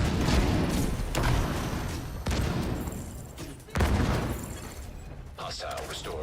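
Grenade launcher fire in The Division 2 shooter game: four heavy, booming blasts land about a second apart, each followed by a rumbling decay, with a lighter mechanical rattle at the close.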